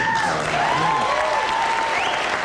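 Studio audience on a late-night talk show applauding steadily for the whole stretch, loud and dense, with a voice faintly audible through it.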